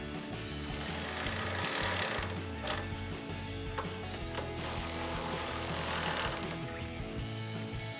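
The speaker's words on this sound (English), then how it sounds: "take a 10mm socket to tighten them down" A 10mm socket on a ratchet tightens factory bolts on a 2016-2023 Toyota Tacoma tail light, giving close, continuous mechanical clicking and grinding with a few sharper knocks.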